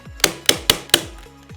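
Four sharp, heavy strikes in quick succession, a staple gun used as a hammer banging against wood while repairing a cat tree, loud and close.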